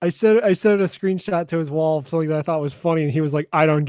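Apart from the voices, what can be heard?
No everyday noise stands out behind the speech.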